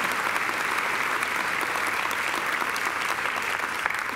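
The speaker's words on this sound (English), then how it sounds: "So I think they deserve a round of applause too." Audience applause at a graduation ceremony, a sustained, even wash of many hands clapping in a large hall, steady and fairly loud from start to finish.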